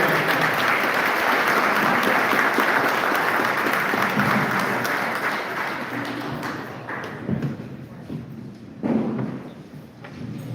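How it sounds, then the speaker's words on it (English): Sustained, warm audience applause at a county sheriff's community forum, dense clapping that gradually thins into scattered claps and thumps near the end. "Please join me in giving Cheryl a warm round of applause"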